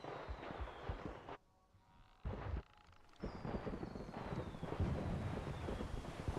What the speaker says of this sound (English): that's the fireworks going on over there